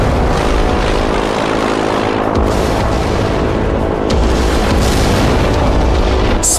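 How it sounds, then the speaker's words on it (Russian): Dense WWII battle din from the video game Operation Bagration: continuous roaring warplane engines and artillery booms blend into a loud, unbroken wall of sound, with sharper hits and swells standing out throughout. "Тысячи боевых самолетов поднялись в воздух и обрушили шквал огня на застигнутого врасплох противника."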